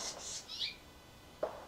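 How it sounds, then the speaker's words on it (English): Small birds, finches and wrens, chirp near a fan, with a few faint high calls early on and one short, sharper chirp later, distant and quiet against a soft background hush. "Jay, there's like 2 finches and 2 wrens, and they're competing over whatever is in that fan."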